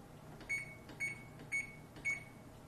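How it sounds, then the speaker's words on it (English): An oven timer beeps four times at an even, steady pace, each tone short and clear over a quiet kitchen hum. "So setting our timer for 10 minutes"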